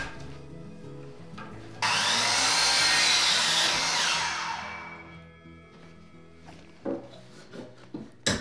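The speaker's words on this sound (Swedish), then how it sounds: "Så nu ska jag såga till några sådana att vi ska sätta in det" A hand saw rasps loudly through a wooden board in a burst of fast strokes, then fades into knocks and clatter of tools nearby.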